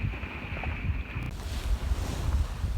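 A sailboat on the open Pacific between Panama and the Galapagos, with steady wind noise and rushing water and waves against the hull, heard up close and continuous.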